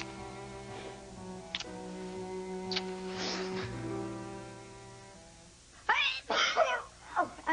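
A person sneezes in a soap-opera scene; a sustained musical tone plays underneath, followed by a sharp, close burst and several loud breathy bursts near the end.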